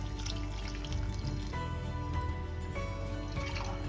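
Water pours steadily into a cooking pot while a vegan coconut milk broth with green chilies, curry leaves and salt is being made, a continuous close splashing trickle.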